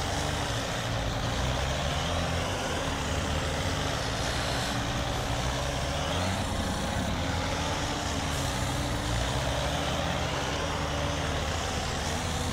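The XPen 8x8 mod truck in SpinTires drives on slowly, its engine giving a loud, continuous heavy drone and rumble that never lets up.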